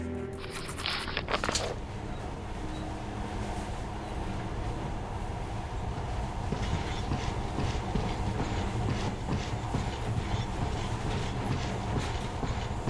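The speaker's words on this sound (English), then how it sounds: "In the past, trains were ordinary things, but now, this monorail seems magic, doesn't it?" Monorail train in Metro: Last Light Redux running steadily with a continuous rumbling rail drone and rhythmic wheel clatter, loud and close throughout after a brief burst of mechanical noise at the start.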